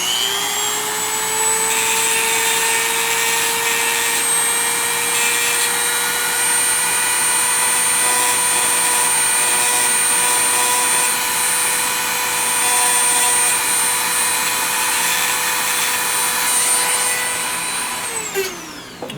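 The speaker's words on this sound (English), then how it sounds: "I'm going to use a Dremel tool with a 1/4-inch stone." A Dremel rotary tool with a 1/4-inch stone bit bevels the crimp of a Majestic Arms speed strip for a 22/45, giving a steady, loud high-pitched whine that holds constant for nearly twenty seconds before spinning down at the end.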